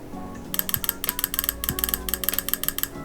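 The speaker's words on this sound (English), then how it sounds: "we can hear the relay triggering on the intercom" A rapid run of sharp mechanical clicks in quick bursts from a relay triggering on an Akuvox intercom, crisp and close, over a low steady hum with no talking.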